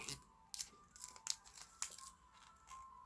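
Paper being creased and folded into pieces for a paper spinning top, heard as soft, close crinkling and crisp rustles in scattered bursts, faint and alone without talk.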